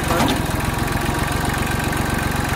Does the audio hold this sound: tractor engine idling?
yes